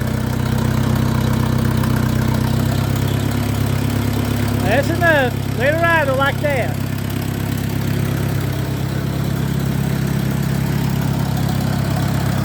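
A tractor engine idles steadily and close by throughout, a low even rumble, while a voice speaks briefly in the middle.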